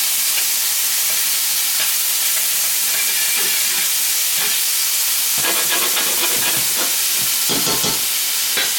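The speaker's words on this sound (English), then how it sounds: "We're gonna go ahead and add our chopped up bacon to the pan" Chopped bacon fries in a pan with a loud, hissing sizzle heard up close, a steady dense crackle that grows rougher with spatula scrapes in the later seconds, and no talking.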